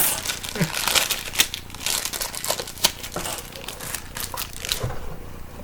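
Plastic packaging crinkling and rustling while wires and plugs are unboxed, a dense run of crackly handling noises up close, with sharp crunches scattered throughout.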